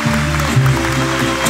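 Wedding guests clapping in a reception hall, a short burst of steady applause with some low musical hum underneath, fairly close.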